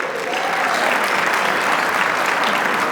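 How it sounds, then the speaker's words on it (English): Audience applause fills a 25th anniversary celebration gala, a dense, steady wash of clapping from a large crowd that stays loud and even throughout. "Let's give ourselves a round of applause."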